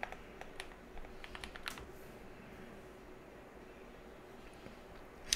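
Quick bursts of keystrokes on a computer keyboard, close and fairly crisp, a rapid cluster of taps in the first two seconds followed by quiet room hiss and a final click at the end.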